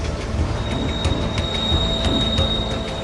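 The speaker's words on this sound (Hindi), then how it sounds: "ये ट्रेन 2450 टन लेड, जिंक और सिल्वर से लदी हुई है" A freight train loaded with lead, zinc and silver ore rolls along the high Altiplano railway in Peru, a steady rumble of wagons with faint rhythmic wheel clicks and a thin high squeal.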